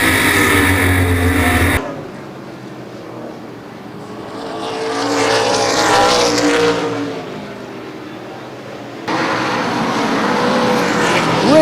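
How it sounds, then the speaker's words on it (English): Race cars roar past on the Baer Field Speedway oval during an ARCA/CRA Super Series race, loud engine noise swelling and fading as the field sweeps by, with crowd and track ambience between passes. "Hance with the 9th place car, Rick Turner, the last car in the lead lap, just in front of your leaders."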